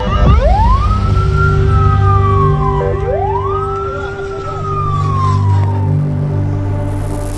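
A loud ambulance siren in Gaza wails in two long rising-and-falling sweeps over a steady low engine drone, close by and dominating the scene.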